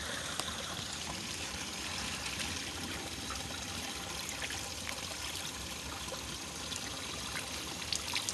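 Water pours steadily onto a person on a hiking trail at Morro da Urca, a continuous close splashing rush with no pauses.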